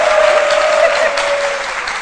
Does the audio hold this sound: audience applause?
yes